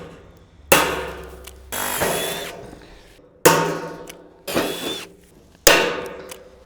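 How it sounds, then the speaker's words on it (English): Rivets are set by hand into a rain gutter installed under a flat roof, giving five sharp metallic snaps at uneven intervals, each ringing briefly before fading, close and loud with no voices. "So when I'm riveting these on, I always start from the bottom."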